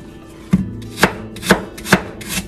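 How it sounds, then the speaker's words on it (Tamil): A knife cuts peeled apples into thin slices on a board. Four or five crisp, evenly spaced thuds land about half a second apart, close and clear, with no talk. "ஸோ நம்ம இதை வந்து கட் பண்ணி ஸ்லைசஸாக எடுத்துக்கலாம்."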